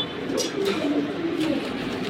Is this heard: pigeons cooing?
yes